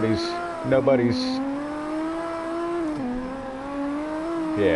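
A stock BMW drifting in the CarX racing game, its engine droning steadily with shifting revs and brief squeals, held up close and continuous, while voices talk over it.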